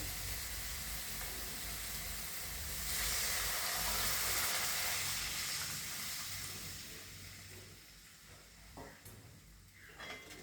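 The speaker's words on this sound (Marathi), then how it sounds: "आता हे पाणी घालायचं" Water poured into hot oil in a pan while making vermicelli upma, giving a loud hissing sizzle that swells then fades into quieter bubbling and stirring.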